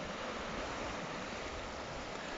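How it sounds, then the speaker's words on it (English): Waves surge up a small river at Sandsend, a continuous broad rushing wash of water close by, steady and unbroken throughout. "You can see the waves here are coming up the river"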